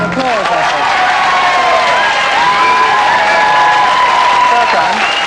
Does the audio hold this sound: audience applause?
yes